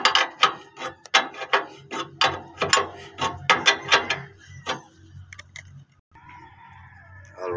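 A wrench ratchets in quick repeated clicking bursts while tightening a steel tube fitting on a vehicle, loud and close, then tapers off into softer metallic handling sounds.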